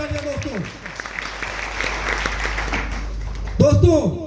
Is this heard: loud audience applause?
yes